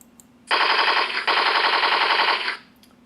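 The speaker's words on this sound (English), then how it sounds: "you can see here probably a machine gun. Okay, a little machine gun wave file." Machine gun sound effect played from a Beier SFR-1 sound controller for a Tamiya semi truck, a rapid electronic burst of gunfire lasting about two seconds with a brief break midway, loud and close against a quiet background.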